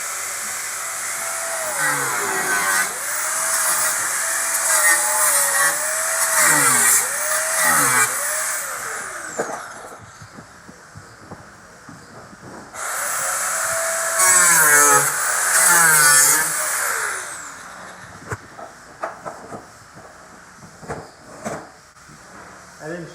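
A power tool whines as it cuts a corner off a bumper near the tire of a 2020 Ford Transit AWD, rising and falling in loud bursts, with voices talking between cuts.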